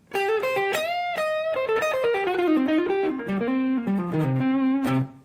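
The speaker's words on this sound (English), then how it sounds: "So anyways, I just kick on a tube screamer." A distorted electric guitar plays a melodic pentatonic run of sustained notes overdriven by a modeled Tube Screamer from a Line 6 M13, close and steady, with no voices.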